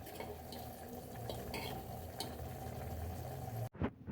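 Coconut milk bubbles and simmers steadily in a pan at low volume, with a few soft clinks of a utensil, ending in a brief clatter.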